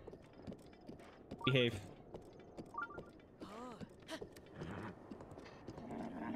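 Heavy hooves of a giant horse clip-clop in the open-world game The Legend of Zelda: Breath of the Wild, scattered thuds over game ambience with a brief whinny-like call, while someone talks over it.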